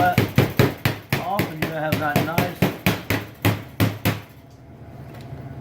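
About a dozen sharp strikes of a small hammer in a quick, uneven run, crushing a brittle slab of English toffee on a hard surface, then the pounding stops and a quiet room tone remains.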